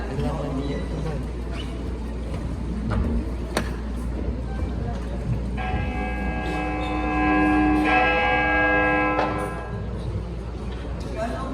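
A church bell rings partway through a school stage play of Noli Me Tangere, with sustained metallic tolls sounding under people talking.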